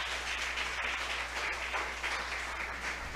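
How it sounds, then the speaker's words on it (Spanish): A church congregation applauds in praise of God, giving steady, dense clapping that holds evenly over a low background hum. "¿Cuántos le aplauden a Dios por esto,"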